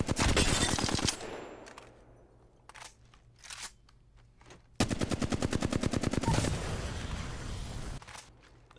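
Loud automatic gunfire from the Apex Legends video game, played on console: a short opening burst, scattered single shots, then a long rapid stream of shots, with no talking.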